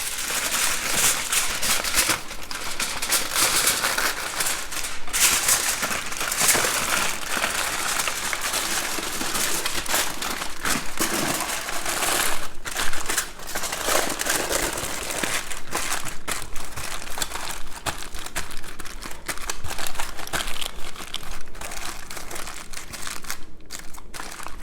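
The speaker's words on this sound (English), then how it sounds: "So I'm going to use foil today versus butcher paper." Aluminum foil crinkles and crunches steadily as a smoked brisket is wrapped beside a REC TEC Bullseye smoker, with dense crackling rustles that continue without pause and no talking.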